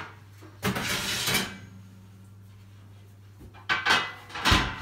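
A metal oven tray taken out in a home kitchen: two separate bursts of clattering and scraping, one near the start and one toward the end, with a quiet low hum in between.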